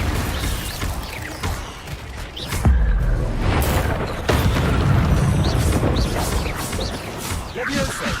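Incendio fire spell from Hogwarts Legacy, a fiery whoosh and burst amid loud booming combat effects, with spoken spell incantations throughout.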